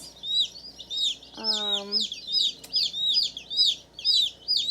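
Dark Brahma chicks cheep in a busy, high chorus of rapid peeps, close by, with a short low drawn-out call rising through the middle.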